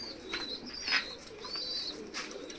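Domestic pigeons coo softly in a home loft, a few low murmuring calls close by with faint bird chirps, no voices.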